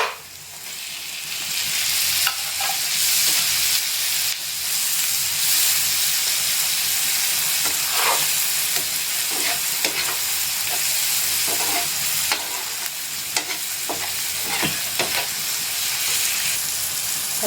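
Green chilies frying in hot oil with turmeric for pav bhaji, a steady loud sizzle and hiss with intermittent scraping stirs of a spoon in the pan, no voices.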